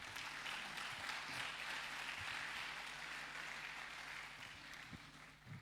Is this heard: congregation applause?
yes